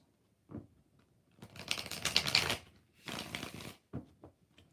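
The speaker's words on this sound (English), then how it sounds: "3 more shuffles." Tarot cards are shuffled in a few quick bursts: a short tap, then two longer papery riffles, then a couple of soft taps. The shuffling is close and clear with no voices.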